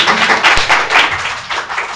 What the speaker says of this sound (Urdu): اپنے لیے زوردار تالیاں بجائیں